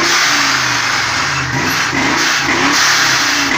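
A procharged LS-swapped Oldsmobile Cutlass Supreme blips its throttle up close, loud repeated revs rising and falling over a lumpy, choppy idle with no voices.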